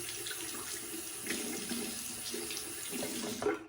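Running tap water splashes steadily in a sink while a single edge razor is rinsed, a close, even hiss with slight shifts as the blade moves through the stream.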